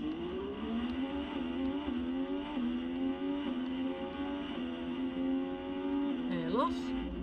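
Car engine accelerating in an Xbox One racing video game, a steady rising whine that climbs through gear changes, loud and continuous, with a brief sharp squeal near the end.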